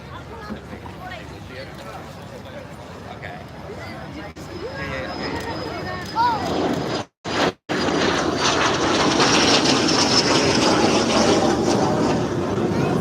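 An L-39 Albatros jet takes off at an air show, its engine roar building from a distant whine to a loud, broad rush amid crowd noise and a commentator's voice.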